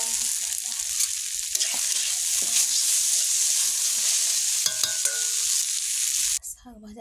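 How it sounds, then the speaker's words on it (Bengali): Water spinach frying in mustard oil with garlic, onion and chopped chilli, a continuous bright sizzle close by with occasional stirring clinks, cutting off abruptly near the end. "রসুন, পেঁয়াজ, লঙ্কা কাটা, কলমি শাক ভাজা"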